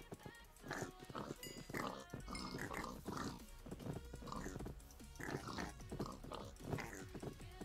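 Pigs grunt repeatedly on a Minecraft Sky Factory 4 farm, several close, overlapping snorts and oinks in an irregular rhythm over a steady game background.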